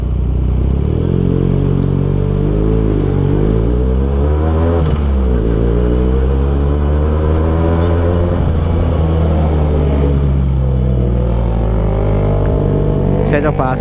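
A Benelli TNT 249 S motorcycle engine pulls away in first gear, a loud, close rumbling drone that rises and falls in pitch as the revs climb, with a voice talking over it.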